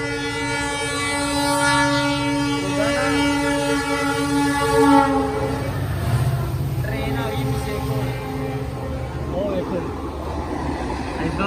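A train rumbles past in Rajasthan with a loud, sustained horn blast at the start, its wheels clattering steadily on the rails, while people talk over it.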